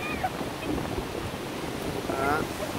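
Ocean surf at the seashore rolls and washes in under gusty wind buffeting the microphone, with soft rushing swells and faint voices mixed in.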